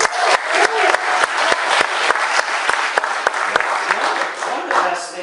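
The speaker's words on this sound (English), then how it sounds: "Give them a round of applause." An audience gives a round of applause, loud, dense clapping with sharp individual claps standing out, sustained throughout with slight swells and a fade near the end.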